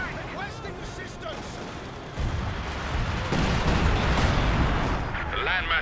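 Assault officer artillery fire in Company of Heroes 2, a dense, sustained roar of shelling and blasts that grows louder partway through and keeps rumbling to the end, with voices talking over the battle.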